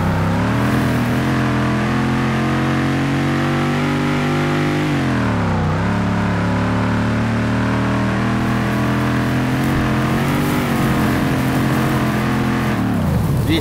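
A Mercedes S63 Mansory pulls hard through a very long first gear, its engine note climbing steadily, dipping briefly at a shift, then rising again before easing off, loud and close inside the car with no talk.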